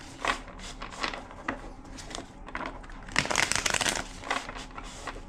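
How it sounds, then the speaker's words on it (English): A deck of tarot cards is shuffled by hand in a string of quick papery riffles and soft slaps, a burst of bursts with a denser flurry near the middle, close and fairly quiet. "Two more shuffles."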